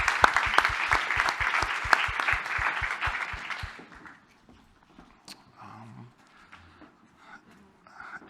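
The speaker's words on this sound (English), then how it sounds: "Let's give our panelists here a round of applause." Audience applause for a panel at a women's health forum, a dense burst of clapping that fills the first four seconds and then stops abruptly, leaving quiet room noise with faint murmurs.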